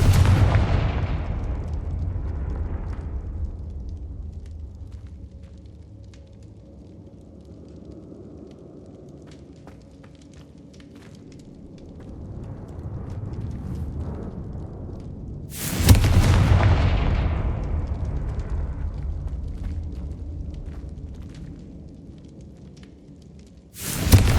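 Booming blasts of the Confringo explosive spell in Hogwarts Legacy on PC: a loud explosion opens, its rumble slowly decays, and a second blast lands midway before fading again, with no talk.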